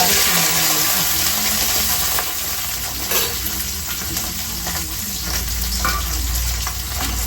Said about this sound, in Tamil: காஞ்ச மிளகாய் ஒரு 5-6 எண்ணெயில போட்டு வதக்கி